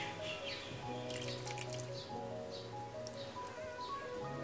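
Cornflour mixture is poured into milk cooking on the stove and stirred in, giving soft, quiet drips and trickles over a steady background hum.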